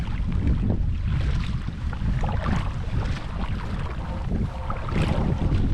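Gusty wind buffets the microphone on a lake shore near a boat ramp, a loud, rumbling, continuous roar that swells and eases in waves with no voices.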